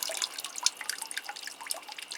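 Water drips and trickles steadily through light bark potting mix in an orchid pot after repotting, a close run of small irregular splashes and droplets with no talking.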